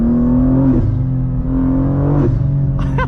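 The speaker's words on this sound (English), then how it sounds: "The backfires are fantastic when you downshift, as are the turbo noises." Turbocharged 2023 BMW M2 tuned to 720 wheel horsepower, its engine droning loud and steady under load, then dipping through two quick downshift blips, with a burst of crackling backfire pops at the end.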